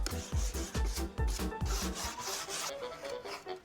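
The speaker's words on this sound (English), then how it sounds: "grab my wire brush and just like aggressively scrub it off" A wire brush scrubs hard across a carved wood surface in quick, rhythmic back-and-forth strokes, close and scratchy, then fades to a softer scraping at the end.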